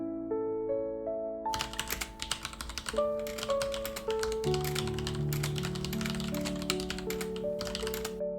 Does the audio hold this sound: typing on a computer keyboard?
yes